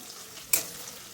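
Chopped onion frying in a pan for a vegetable chowmein, a steady close sizzle with one brief louder scrape of stirring midway.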